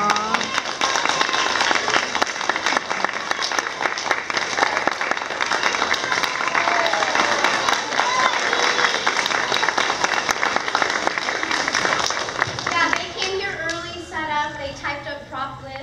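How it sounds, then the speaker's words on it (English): An audience at a school play assembly applauds in a sustained, dense wash of clapping that holds steady for most of the stretch, then thins out and fades as a few voices and children's chatter come through near the end. "one more round of applause for Victor"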